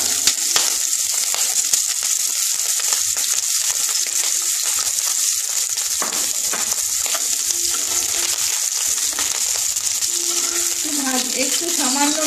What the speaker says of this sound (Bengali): একটু সামান্য নেড়ে আমি তুলে নেব।